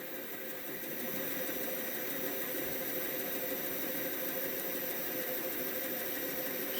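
A model locomotive's small electric motor, on a GWR Half Cab or 1959 Triang Jinty, runs on test with a steady, faint, even hum and buzz that holds without a break throughout.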